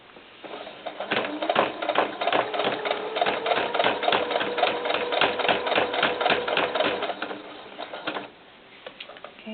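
A sewing machine stitches fabric for a doll cowboy hat in a fast, even run of mechanical clatter lasting several seconds, then slows and stops near the end.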